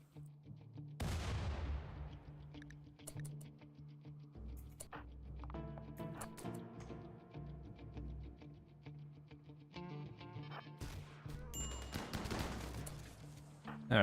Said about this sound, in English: There's a grenade launcher.